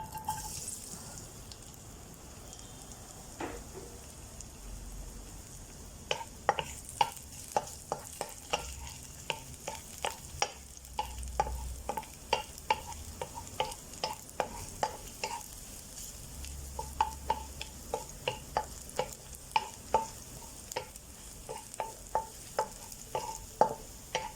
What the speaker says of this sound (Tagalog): First, we fry our garlic.